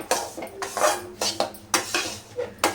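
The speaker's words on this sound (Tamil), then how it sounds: "ரவையை போட்டு நல்லா வறுத்து எடுத்துக்கலாம்." Semolina (rava) is dry-roasted in a metal pan for rava laddu, as a spoon scrapes and clinks against the pan in quick, repeated strokes, loud and close.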